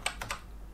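A few keys tapped on a computer keyboard while entering text into the Windows search bar: four crisp, separate clicks spaced unevenly, close and clear over a low background hum, with no voices.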